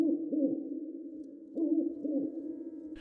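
Owl hooting in a quiet setting: two paired bursts of low, wavering hoots, one pair near the start and another about halfway through, fairly close and clear with no talk.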